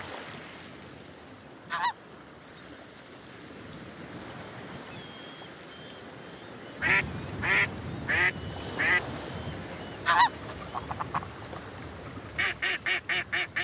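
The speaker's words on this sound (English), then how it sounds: "The big male hears the duck, but cannot see her." Ducks calling on open water: a single quack, then a burst of loud repeated quacks and honks over steady lapping waves, ending in a quick run of short calls.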